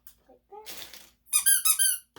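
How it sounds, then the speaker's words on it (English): Bursts of high, whistling squeaks from a rubber squeak toy, two short squeezes followed by a louder run of three, with quiet rustling in between. "Squeak toys."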